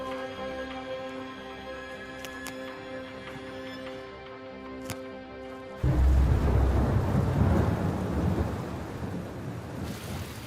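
A thunderstorm at the edge of an airport area: tonal, music-like sounds give way to a sudden heavy rumble of thunder and rain that continues loud and dense to the end.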